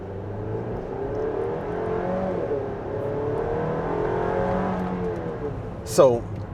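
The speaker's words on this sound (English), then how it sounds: "Let's go ahead and lay into the throttle here, and I'll show you guys the throttle response here." A Chevy Traverse with an 8-speed transmission accelerates under full throttle, its engine tone climbing and shifting in a steady, smooth drone heard from inside the cabin, ending with a brief sharp sweep.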